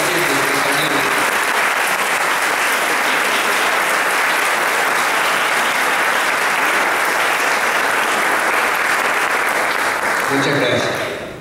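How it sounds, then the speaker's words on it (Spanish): Loud, dense applause from a large audience at an outdoor school ceremony marking the bicentenary of school cooperative associations, a sustained roar of clapping filling the whole stretch before tapering at the end. "Un aplauso enorme para esta gente."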